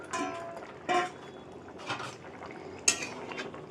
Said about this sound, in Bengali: এবার ভেজে রাখা বাটা মাছগুলো আমি সব দিয়ে দেবো